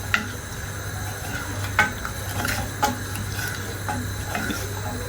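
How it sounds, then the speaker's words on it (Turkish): Wooden spoon stirring a pot of Dr. Oetker aşure, with soft scraping and occasional light knocks against the sides over a steady low hum and faint sizzle. "Şöyle karıştırıyorum arkadaşlar."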